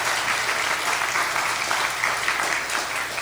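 A church congregation claps together at a Sunday service, a loud, even burst of applause filling the room without pause.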